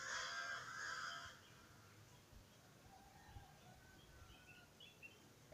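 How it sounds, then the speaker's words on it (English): Birds call outdoors in The Gambia on a gentle breeze, opening with a loud, harsh cawing call for about a second, then fainter scattered chirps over quiet background air. "I have birds singing, a gentle breeze."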